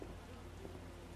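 Steady rain falls throughout a scene in The Witcher video game, an even broadband hiss of drops on surfaces with a faint low rumble underneath, no voices.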